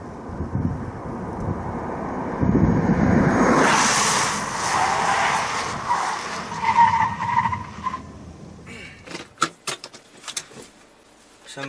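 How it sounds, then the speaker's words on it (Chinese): A Suzuki Vitara skids through a moose lane-change test, loud tire squeal and roaring engine rising and swerving over several seconds, then fading into scattered clicks and bumps. "我们来看一下这个车辆在麋鹿变线当中的表现到底如何"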